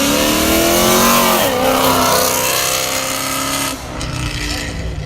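A 2011 Dodge Charger engine revs loudly and close at a car show, rising and falling in sustained roars that dip partway through and then climb again, with crowd noise underneath.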